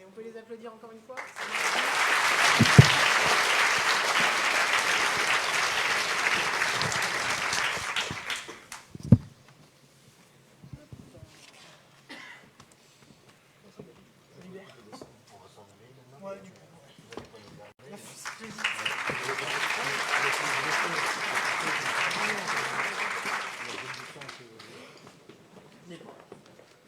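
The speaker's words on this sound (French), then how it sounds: "On peut les applaudir encore une fois." Two bursts of audience applause at a New Year's greetings ceremony honouring five medal winners, the first loud and sustained for about eight seconds, then a quieter gap of scattered noise before a second, softer round of clapping.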